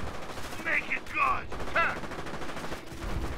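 Gunfire in the Company of Heroes video game, with rattling bursts of shots over a dense battle din. Game voices and radio-style callouts are heard faintly over the shooting.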